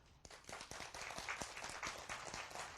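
Audience members at a lecture on the Thousand Character Classic clap, with distinct individual hand claps rising from quiet into a faint but steady, uneven patter.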